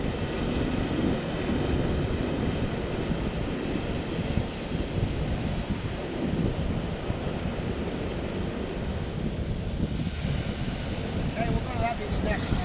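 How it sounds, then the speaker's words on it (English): Ocean surf at a Hawaii beach rolls in as a constant broad roar, with heavy wind buffeting the microphone throughout and a faint higher tone drifting in near the end. "Just trying to film some ocean waves here."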